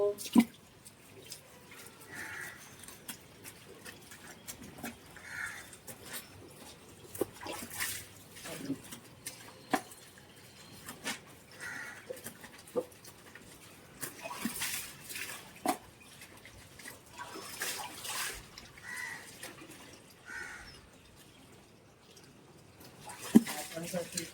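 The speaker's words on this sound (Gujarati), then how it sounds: "તો હવે આપણે કપડાં ધોવાનું સ્ટાર્ટ કરી દીધું છે." Clothes are washed by hand at home with water. Soft splashes, drips and squishy wringing come and go in irregular bursts, quiet and close.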